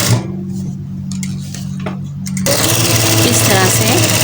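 Sewing machine running a full-length straight stitch on a single layer of fabric for gathers on a girl's frock, a steady whirring hum that grows louder and busier partway through.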